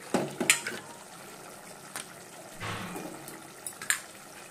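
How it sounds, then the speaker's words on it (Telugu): Chopped potatoes tipped into a pan of tomato paste for tomato rice, giving a few soft clattering drops and a faint sizzle and stir, fairly quiet. "ఇప్పుడు ఇందులో 2 బంగాళదుంపలు వేసుకోండి."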